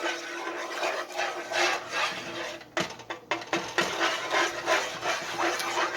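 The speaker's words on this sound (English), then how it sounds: "I start out with just stirring it up. I don't have this on a heated source at all." A breakfast mixture is stirred in a pan off the heat, giving a steady close scraping, rubbing rasp that runs throughout with brief sharper clicks of the utensil against the pan, and no talking.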